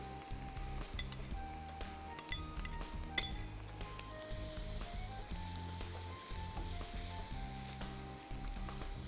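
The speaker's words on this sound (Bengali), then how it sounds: "এটাকে লাল লাল করে ভেজে নেব। এর সাথে দিয়ে দিচ্ছি 1 কাপ গাজর কুচি," Chopped carrots sizzle in hot oil with browned chopped onion, a steady close frying hiss broken by several sharp clinks of a utensil against the pan.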